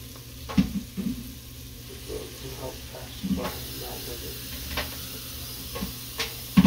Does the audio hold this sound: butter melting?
yes